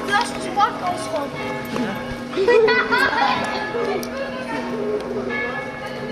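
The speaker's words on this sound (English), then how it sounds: "Those are just the 12:30 bells" Church tower bells ring out at half past twelve in the old town of Heidelberg, a steady sustained tone under nearby chatter and footsteps in a busy street, with people talking close by.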